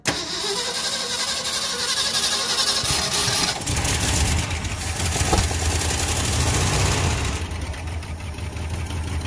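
A 1974 Ford F250 4x4 truck engine that sat for years cranks and fires up, then runs at a rough, uneven idle close by with a low rumble.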